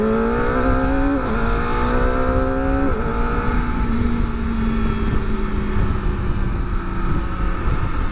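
A modified Kawasaki ZX25R motorcycle engine drones loudly and close while riding, with a high, buzzy tone that shifts pitch at a couple of gear changes before settling into a steady cruising hum.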